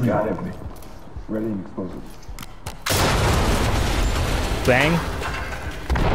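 A flashbang grenade goes off in the tactical shooter game Ready or Not: a sudden loud broadband blast that lingers as a harsh roar, following and overlapping a voice.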